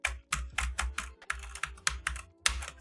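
Close, crisp keystrokes on an unplugged computer keyboard come in a quick, uneven burst of about a dozen clicks with short pauses between them, and nobody speaks.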